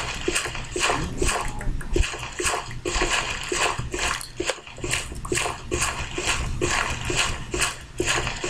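Steady splashing, rushing water flows continuously in Minecraft, close and fairly loud, with a rhythmic pulsing texture throughout.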